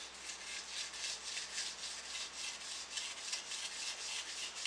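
Rhythmic rasping strokes of a deba kitchen knife being sharpened on sandpaper in a holder, about a dozen even back-and-forth rubs up close, with no voices.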